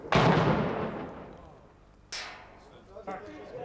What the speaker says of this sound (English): the Serbian troops respond with a barrage. Hundreds of rounds in the general direction of where the shot was fired.